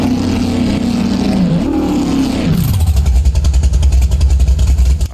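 A racing car in the BeamNG driving game screams at high revs, then the pitch drops sharply as it shifts down into a loud, rough, pulsing low engine rumble, close and alone.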